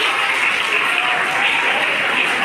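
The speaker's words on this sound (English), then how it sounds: "Let us give them a big round of applause." A school hall crowd applauds teachers at a retirement function, dense steady clapping at an even level throughout.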